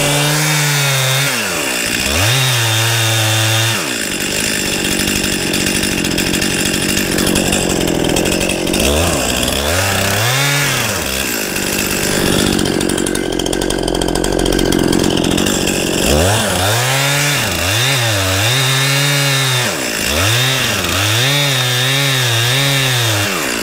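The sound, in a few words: chainsaw cutting through a tree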